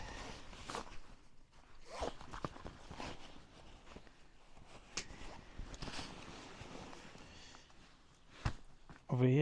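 The zipper on a Fjällräven Singi 48 backpack is pulled open in several short, quiet zipping strokes, mixed with soft fabric handling and rustling outdoors.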